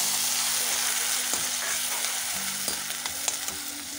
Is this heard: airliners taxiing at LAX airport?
no